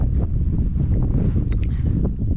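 Strong wind buffets the microphone on an exposed Scottish mountainside among the Munros near Ben Lawers, a loud continuous low roar with gusty fluctuations and no talk.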